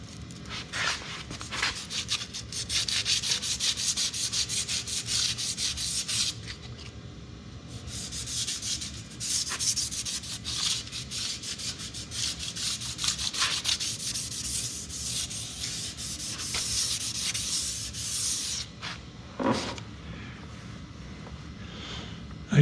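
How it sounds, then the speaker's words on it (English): Sandpaper rubbing paint off the steel bearing area of a sawmill, a steady close scratchy sanding that runs almost without a break, with a few short pauses. "I've got to sand off the paint and clean up the upper area, and the lower area will have to be cleaned off also"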